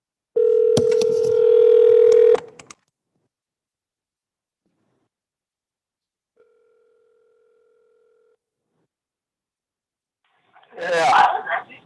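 An outgoing telephone call plays a loud dial tone for about two seconds, followed by a long silence, a faint brief tone, and then a voice speaking at the end.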